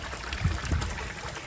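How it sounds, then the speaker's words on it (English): Pond water trickles and drips steadily from a pot hanging at the edge of a koi pond, a soft continuous dribble close by with no talking. "that pot is dripping out pond water right there"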